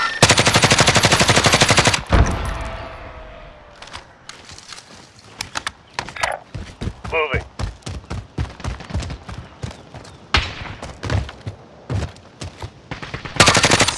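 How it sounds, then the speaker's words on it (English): Rapid automatic gunfire bursts in Warzone Resurgence, a first-person battle royale video game, loud and close with a long sustained burst at the start, then scattered shots and short volleys continuing throughout. "Shots, get down!"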